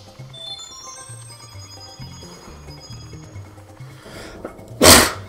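One sharp, loud sneeze bursts out near the end, close to the microphone, after a stretch of quiet game music from Super Mario 64.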